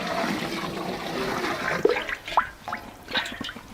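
Water is poured into rice for chicken kabsa, a gurgling, splashing stream that swells and tapers in bursts close up, with no talk.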